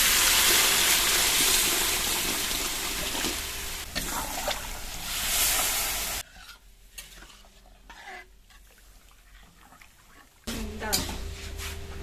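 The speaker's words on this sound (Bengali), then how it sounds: "জল দিয়ে দেবো।" Water goes into a pan of spiced tilapia fish curry with raw mango, cooked village style: loud sizzling and stirring first, then a quieter stretch with faint bubbling and clinks, and a brief burst of sizzle near the end.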